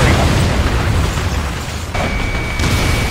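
A target blows up in Ace Combat: Assault Horizon, a loud deep rumbling blast that slowly fades, followed by a thin electronic tone.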